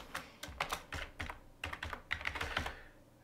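Rapid keystrokes on a computer keyboard clatter in quick irregular bursts, close but quiet, with no other sound around them.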